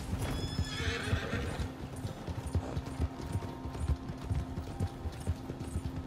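A horse gallops with rapid, rhythmic hoofbeats in Red Dead Redemption Online, and a whinny rings out early on, close and clear over the continuous thud of hooves.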